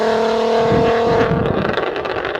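A Volkswagen VR6 engine revs hard, giving a loud, steady, raspy, harmonic-rich drone that shifts and roughens toward the end.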